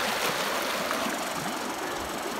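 Hellroaring Creek rushing below Hellroaring Lake in Idaho's Sawtooth Mountains, a steady broadband wash of flowing water heard close and continuous with no talk.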